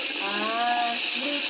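Water runs steadily from a tap in a broad hissing stream, close and constant for a moment, with faint voices murmuring underneath.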